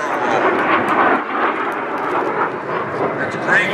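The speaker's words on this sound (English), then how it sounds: "A low level pass and then a pull up and a beautiful barrel roll." T-33 jet aircraft at an airshow making a low pass and barrel roll, a loud continuous roaring rush that swells and shifts throughout, with someone talking over it.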